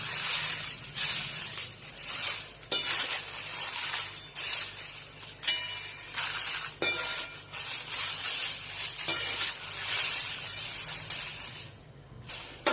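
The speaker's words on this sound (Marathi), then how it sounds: "आपली बेडगी मिरची ही भाजून झालेली आहे" Byadgi chillies roast in a hot kadhai for onion-garlic masala, producing close, repeated rustling and scraping strokes as they are tossed, with a soft hiss between the strokes.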